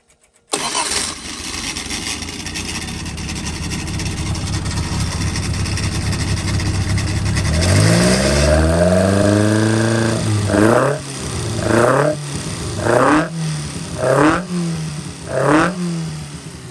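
A carburetted engine on a dyno cranks and catches after several seconds of steady running noise, then settles and is blipped in five sharp, rhythmic revs close by.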